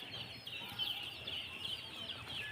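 Young chicks kept at a home alongside ducklings peep in a constant high chorus, faint and steady throughout, with no talking.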